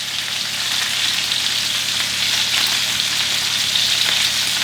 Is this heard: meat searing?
yes